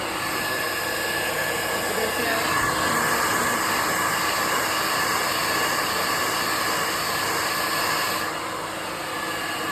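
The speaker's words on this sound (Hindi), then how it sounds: "ड्रायर का मुँह उस वे में रखा है कि ना क्लाइंट को प्रॉब्लम हो ना मेरे को प्रॉब्लम हो।" A straight blow dryer running on hair during a salon styling demonstration, a continuous loud whooshing airflow roar with a steady tone that softens slightly near the end.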